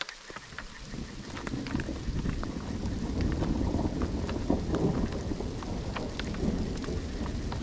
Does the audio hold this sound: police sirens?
no